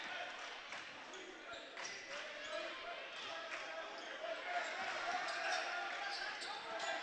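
A basketball bounces on the court during overtime of a high school game between the Newport Greyhounds and Osceola Seminoles, steady dribbles half-buried in a constant roar of a large crowd.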